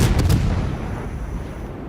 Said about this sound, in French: je tire mais je fais pas de dégâts